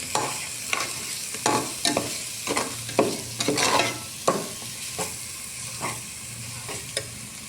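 Misal spices sizzle and crackle in hot oil, stirred with repeated scraping strokes of a spoon against the pan, close and loud, with no voices.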